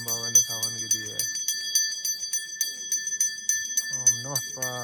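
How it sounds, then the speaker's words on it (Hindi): A temple bell rings repeatedly in a steady rhythm during a Sawan pilgrimage to Shrikhand Mahadev, its sustained metallic tone carrying throughout while someone talks over the start and end. "इस टाइम घंटी बजा रहे हैं"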